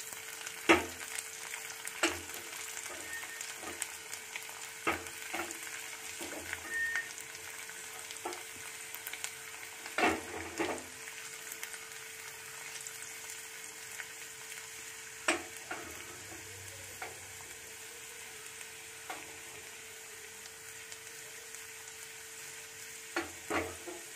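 Garlic and two green chillies frying in oil for a tempering, a soft, continuous sizzle with occasional stirring clicks and scrapes, close and fairly quiet.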